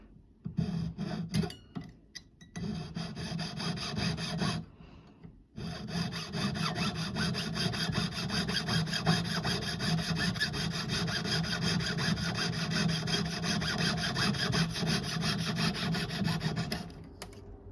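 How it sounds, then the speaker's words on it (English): Jeweler's saw blade, waxed, cutting silver for buoy earrings: rapid, even rasping back-and-forth strokes close up, continuing steadily after a few brief starts and a short pause. "a type of wax that helps the blade cut smoothly"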